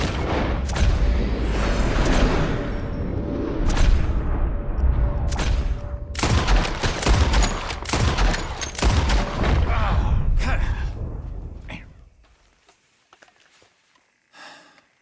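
Repeated rifle shots in a Red Dead Redemption 2 shooting contest: sharp, loud cracks fire in uneven bursts over a rumbling background, then the firing stops and it goes almost silent apart from a faint late pop.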